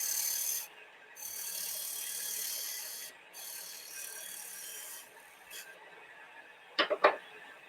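A parting chisel cuts wood in a single pass, taking off about 1/16 inch each side. It makes soft scraping and rasping strokes in several bursts separated by brief pauses, then two sharp clicks near the end.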